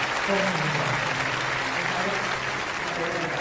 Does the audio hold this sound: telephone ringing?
no